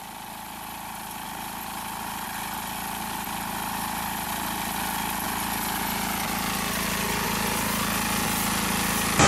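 A rice harvester's engine runs steadily at idle, a continuous mechanical drone with a faint vibrating rattle that grows slowly louder over the whole stretch, with no other sounds over it.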